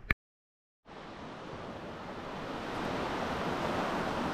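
Ocean surf washes steadily onto a remote Indonesian beach, a continuous broadband hiss that starts abruptly after a moment of silence and swells slightly louder toward the end, with no voices.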